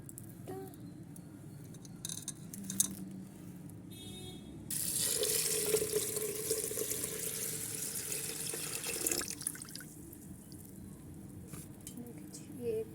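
Water from a large mug is poured into a pressure cooker holding whole red lentils, making a steady splashing rush for about five seconds amid quieter kitchen clatter and faint background noise.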